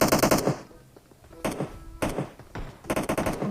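Automatic weapon fire in the PUBG Mobile battle royale game, loud rapid bursts repeating in four separate volleys with short gaps between them, no talking.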